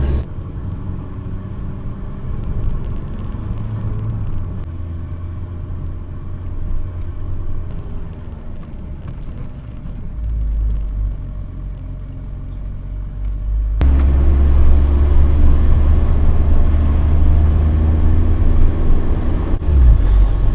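A campervan engine labours up the steep Applecross Pass in second gear, a loud continuous low rumble that grows heavier and louder partway through.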